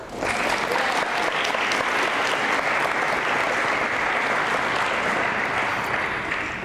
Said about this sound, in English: I usually get applause for that.